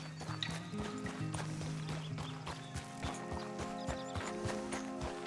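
Horse hooves clip-clop steadily in Red Dead Redemption 2, a rhythmic run of close hoofbeats over a continuous bed of game music and ambience, with an occasional faint whinny.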